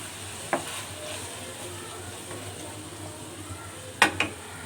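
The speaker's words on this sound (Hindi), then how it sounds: "अब मैं इसमें टमाटर ऐड कर रही हूँ और 5 मिनट जो है टमाटरों की भी इसमें भुनाई करूँगी।" Tomatoes frying into a lady finger (okra) curry in a pan, a steady soft sizzle throughout with two sharper stirring scrapes, one early and a louder pair near the end.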